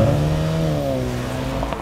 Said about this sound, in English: It drives, looks, and sounds like a true Jaguar sports car